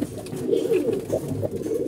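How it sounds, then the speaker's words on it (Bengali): Pigeons kept for flying coo softly and continuously at close range, with a low, rolling, throaty rhythm and no other sounds. "যেহেতু এই কবুতরগুলো আমি উড়াবো"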